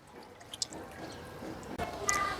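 Water trickling and dripping into a pan of sardines, with light splashes and a brief clatter near the end.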